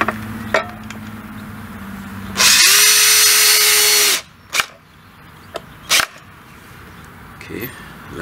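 A power drill spins bolts off a set of old wheels, one loud sustained whir of about a second and a half rising in pitch, framed by shorter knocks and clicks of handling.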